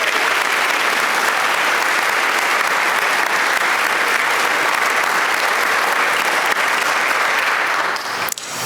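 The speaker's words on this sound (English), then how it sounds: "Now let's have a round of applause for all of our award recipients." Sustained applause at an academic honors convocation for award recipients, dense steady clapping from a large audience that holds evenly before tapering off at the end.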